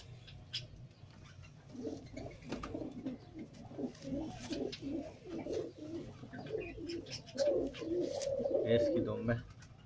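Teddy pigeons, a high-flying breed kept in Pakistan, coo repeatedly in a steady run of low throaty phrases close by. A voice talks underneath.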